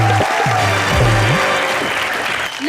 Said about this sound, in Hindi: तो एक बार हमारी जोड़ी के लिए जोरदार तालियां बजा दीजिए।